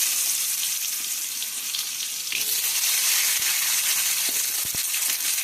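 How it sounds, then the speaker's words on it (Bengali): Cumin, bay leaf and potato hit hot oil and frying, giving a loud, steady hissing sizzle that swells slightly midway, with a few brief knocks near the end. "এবার তেলের মধ্যে ফোড়নে দেওয়া হচ্ছে সাদা জিরে, তেজপাতা"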